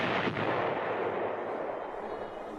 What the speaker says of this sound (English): Tanks were used to keep the roads open at strategic points. firing to keep the enemy off balance.